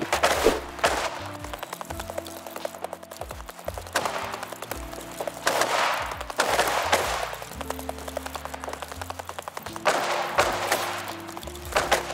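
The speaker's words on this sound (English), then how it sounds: "Just ignore the mortars." Mortar shells explode in Escape from Tarkov, a few heavy booms landing at intervals over a steady game-world rumble, loud bursts separated by quieter stretches.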